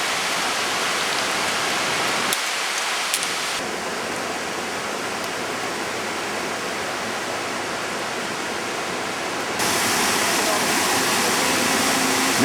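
River in Albania's Valbona Valley running high after a morning of rain, a loud, continuous broadband rush of water close by that dips briefly and then swells again.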